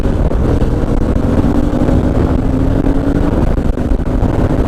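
A nearly automatic motorcycle engine runs at a steady, loud, close drone with a low rumble and a faint mid-pitched whine. The tone barely changes throughout, and no voices are present.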